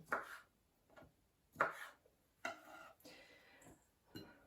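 A knife chops broccoli on a board in a few separate, crisp strokes with pauses between them, close and fairly quiet.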